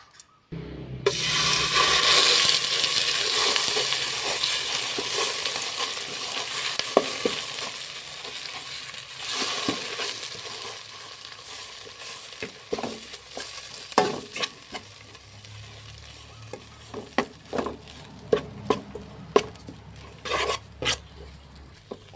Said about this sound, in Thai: เดี๋ยวป้าจะเอา พริกแกงลงไปพัดไปคั่วก่อนเนาะ